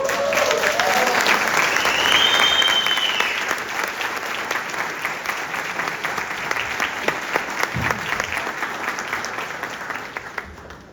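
Sustained audience applause, a dense crowd clapping loudly at first and then easing slightly but continuing steadily throughout.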